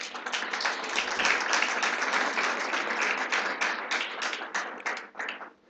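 Clapping from an audience at a women in science and technology gathering in Togo, for a university vice-president, fills the room as steady, fairly quiet applause with distinct individual claps, trailing off just before the end.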